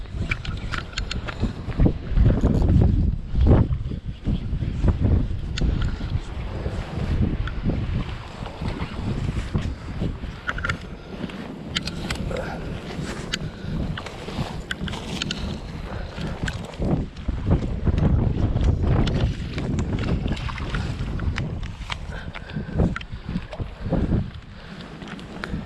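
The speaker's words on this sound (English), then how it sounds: "Super windy day" Strong wind buffets the microphone continuously over open water while pike fishing, with rushing gusts and sloshing waves around a moving boat; no one speaks.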